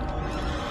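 A horse whinnies in the Assassin's Creed video game, a short, loud, close neigh lasting under a second, heard alone.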